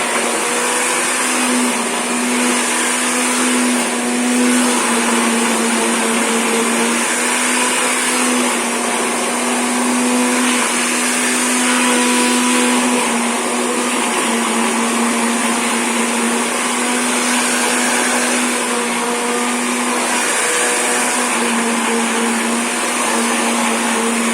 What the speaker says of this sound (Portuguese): vai passar aqui no liquidificador até ficar na mesma espessura que o açúcar